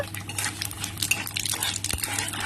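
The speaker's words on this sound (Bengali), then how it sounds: "এবার একটু নেড়ে চেড়ে নেব" Fenugreek and radhuni seeds sizzling in a pan for a moong dal with bitter gourd and bottle gourd, stirred with soft scraping and a brief metallic clink over a steady fry hiss.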